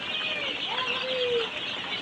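Fayoumi and Tiger chickens clucking softly, a few drawn-out calls close by over a steady background hum.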